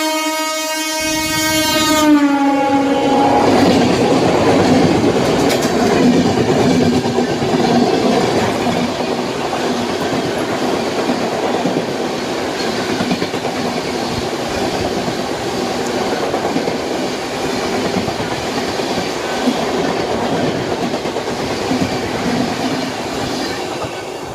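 The Prayagraj Express passenger train runs on rails from Aligarh, opening with a loud horn blast, then a continuous close, heavy rumble of wheels and carriages with rhythmic clatter for the rest of the stretch.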